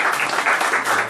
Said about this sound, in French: Je pense que vous pouvez l'applaudir, maman.